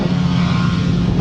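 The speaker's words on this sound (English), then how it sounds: "Revs rise." A grasstrack racing engine gives a loud, steady drone with a low rumbling tone at the start line, holding constant throughout without clear rises or breaks.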